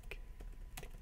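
Someone types on a computer keyboard while playing Minecraft, giving a few quick close key clicks in uneven bursts over a steady background hum, with no speech.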